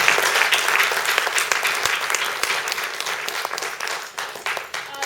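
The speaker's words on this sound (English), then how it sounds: "could we have another round of applause for them, please?" Audience applause at a book launch following a musical performance, loud and sustained, a dense steady wash of many hands clapping that thins slightly near the end.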